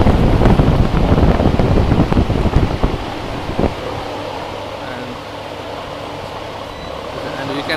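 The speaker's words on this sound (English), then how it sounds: "Now it started, fan is started." A VT-36 industrial evaporative air cooler fan spins up with a loud, rough rush, then settles into a steady, even whoosh of moving air that fills the space.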